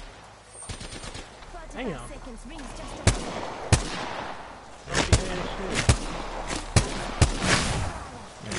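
Gunfire in the video game Apex Legends, a series of sharp single shots and short bursts spaced through the clip over game ambience, with a player talking.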